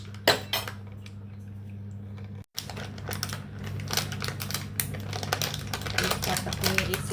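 A spoon works milk and cornflour into a paste in a small bowl, giving rapid light clinks and scraping taps that continue steadily at close range, with a faint voice in the background.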